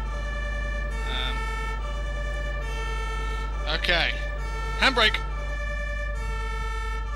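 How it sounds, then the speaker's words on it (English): Ambulance siren from Emergency Ambulance Simulator wails in a steady repeating tone, loud and close, while someone speaks briefly over it. "Sirens! Get out of the way!"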